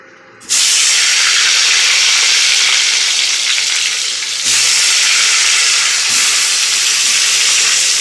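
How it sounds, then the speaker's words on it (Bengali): Salted, turmeric-coated eggplant slices fry in a generous amount of hot oil, giving a loud, steady sizzle and hiss that starts abruptly and continues nearby. "চলো তেলে ভেজে নিই"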